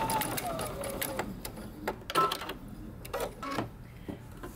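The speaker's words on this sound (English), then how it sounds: "I'm going to baste the edge, the short edge too." A sewing machine bastes along the short edge of a mini hoodie's fabric band, giving quiet bursts of rapid mechanical stitching that stop and start, close by and fairly soft.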